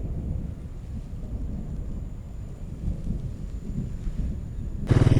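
Low thunder rumbles steadily beneath a darkening sky before rain in a rural village, a continuous deep roll with wind-like noise, ending in a brief louder patter.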